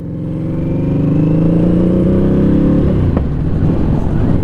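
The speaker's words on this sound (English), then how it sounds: "with that Two Brothers 2-into-1 exhaust, well, it's pretty loud and it sounds really good" A Harley-Davidson Revolution Max motorcycle engine with a Two Brothers 2-into-1 exhaust runs loud and close, its pitch rising steadily as it revs. After a sharp clack it settles back, and nobody speaks.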